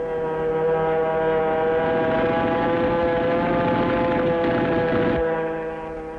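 Carrier planes fly over during 1951 Pacific War footage of raids on Philippine and Palau island airfields, with a loud, steady propeller-engine drone that holds for several seconds, then fades slightly.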